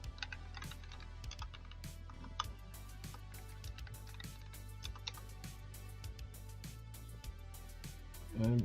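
Computer keyboard typing, with rapid, fairly steady key clicks over a low constant hum, continuing throughout with a louder burst at the end.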